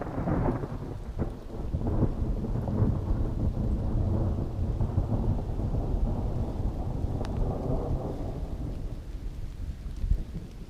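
Thunder rolls through a mountain thunderstorm with hail along the Continental Divide Trail, a long, low, continuous rumble over steady rain that swells and fades across the stretch, with a sharper crack near the end.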